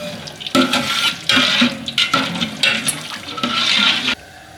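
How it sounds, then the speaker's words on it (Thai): Whole cumin, cinnamon, green cardamom, cloves and bay leaves being stir-fried in melted ghee in a large pot for a beef curry, with repeated scraping and clattering strokes of a utensil against the metal close by. "ผัดเครื่องเทศมาได้ 2 นาทีนะครับ"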